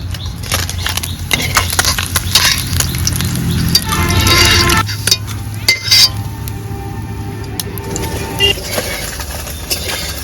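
Something frying in hot oil in a home kitchen, a steady sizzle under clinking utensils and pans being stirred, loud and close, with a few sharp metallic knocks.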